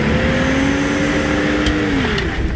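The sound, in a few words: 1994 Toyota 4Runner 4x4 engine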